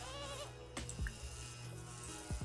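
Sheep in The Sims 4 giving a few short bleats over dense, steady game background sound, with no talking.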